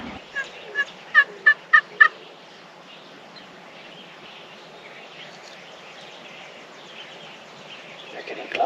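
Wild turkey hens calling from heavy brush nearby: a quick run of about six sharp, clucking yelps in the first two seconds, then only a quiet outdoor hush with no talking.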